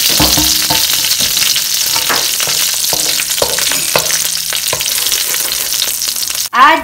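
Dried chilies and curry leaves fry in hot oil with a constant loud sizzle, punctuated by scraping stirs and clinks of a utensil against the pan, ending with a sharp clatter.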